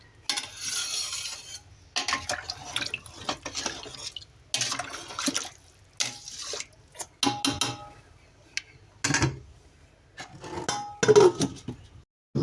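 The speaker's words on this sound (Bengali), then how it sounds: "আমি যতবার খুন্তি দিয়ে নাড়াচাড়া করছি" Beef curry being stirred with a metal spatula in a pot, giving intermittent scraping clinks and clatter in bursts separated by short pauses, fairly close.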